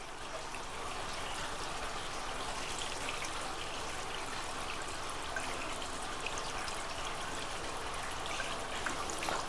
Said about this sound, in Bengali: এবার আমি জলটা দিয়ে দিই।